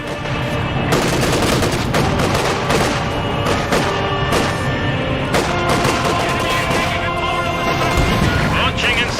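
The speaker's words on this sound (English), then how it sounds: "Launching incendiary artillery barrage." Video game battle with a loud, continuous barrage of gunfire and artillery explosions, constant sharp bangs layered over a rumbling roar, and a voice speaking faintly beneath.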